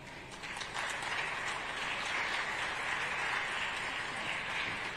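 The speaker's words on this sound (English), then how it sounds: "give a big round of applause" A large audience claps in sustained applause, a dense, even wash of many hands that swells quickly after a brief start and holds steady, heard from amid the crowd.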